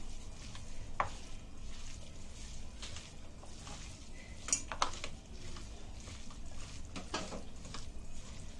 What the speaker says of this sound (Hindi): अभी वटाने को अच्छे से मिक्स करेंगे हाथों से